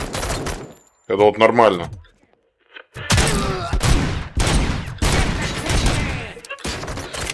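Rapid bursts of gunfire in the shooter game Robocop: Rogue City, with an enemy firing through a wall, loud and close in repeated volleys, under someone talking.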